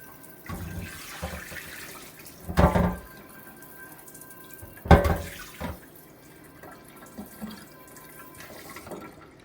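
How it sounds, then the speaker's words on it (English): Tap water runs into a sink while a cast iron pan is rinsed, a steady close wash with two louder splashing bursts partway through. "We are still going to give it a quick rinse out in the sink"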